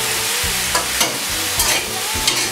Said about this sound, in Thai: ซอสหอยนางรมนะครับ ก็ผัดให้ผัดสุกนะครับ